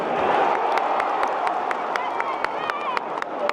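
Football crowd at a Southampton home match against Manchester United, a dense mass of applause and cheering with sharp scattered claps close by, holding steady throughout.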